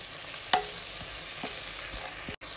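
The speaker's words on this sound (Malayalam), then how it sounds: "ഇനി ഇതിലേക്ക് കുറച്ച് കറിവേപ്പില ഇട്ട് കൊടുക്കാം" Fresh curry leaves sizzle in hot oil for Kerala beef roast, a bright close crackle with a few spoon scrapes and taps, cut off by a brief gap near the end, no talking.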